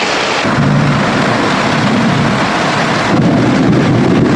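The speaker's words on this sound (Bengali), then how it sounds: "দেখো মেঘের গর্জন শোনো" Heavy rainstorm with thunder: dense, loud rain hiss fills the whole stretch, with a low thunder rumble rolling underneath that swells again near the end.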